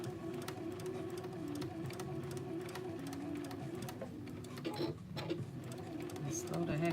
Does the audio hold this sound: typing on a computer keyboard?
no